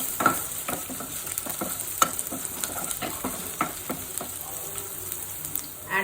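Chopped garlic and ginger fry in a tablespoon of oil, a steady crackling sizzle broken by repeated scraping and tapping of a spatula stirring the pan, with no one talking.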